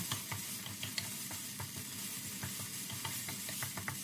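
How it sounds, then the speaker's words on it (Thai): Coconut cream being stir-fried with red curry paste in a pan gives a steady close sizzle and frying hiss, with repeated scraping stirs of a utensil against the pan throughout and no talking. "ใส่หัวกะทิลงไปส่วนหนึ่งก่อน ผัดไปเรื่อยๆ ให้กะทิแตกมันและเข้ากับพริกแกง"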